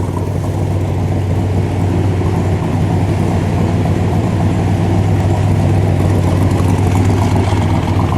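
A 1965 Chevrolet Corvette coupe with a fuel-injected 327 engine drives along, heard from inside the car as a steady, loud engine drone with road rumble and continuous mid-range growl.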